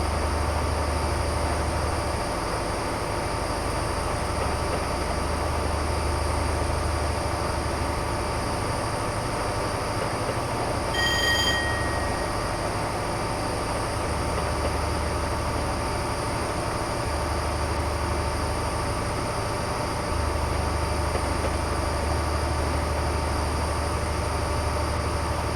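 Trains rumble continuously through heavy traffic in the video game Train Simulator Classic, a steady low engine drone with a brief high whine midway and no talking.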